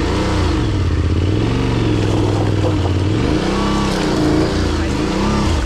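A Yamaha Tenere adventure motorcycle accelerates in second gear on a rocky Spanish trail, the engine pitch rising and wavering loudly and continuously, heard up close with wind noise.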